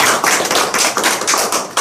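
Audience at a panel discussion on corporate tax breaks into brief applause, quick overlapping claps close and loud for under two seconds.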